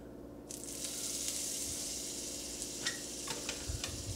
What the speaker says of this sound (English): You're going to want to let that melt and whisk it around. Mix the oil with the butter so the butter doesn't burn.